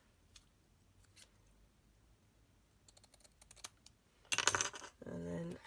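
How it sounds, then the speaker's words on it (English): Scissors trim a paper bear cutout for a mini envelope photo album: quiet scattered snips and clicks, then a louder, denser burst of cutting near the end. "so I think we might just trim graduation bear down a tad."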